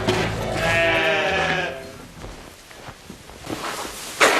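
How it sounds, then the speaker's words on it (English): A blue-faced Leicester sheep kept in a lambing shed lets out one loud, drawn-out bleat close by, followed by quieter shuffling and faint footstep-like rustles. "These are the blue-faced Leicesters. They're a bit soft and they can't cope with the cold weather."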